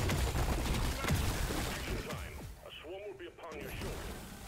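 Gunfire in Deep Rock Galactic, a fast burst of crackling shots and impacts up front, then quieter mechanical clatter and whirring, with a voice talking throughout.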